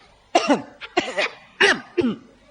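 Four sharp, harsh coughs in quick succession, close and loud, with brief pauses between them.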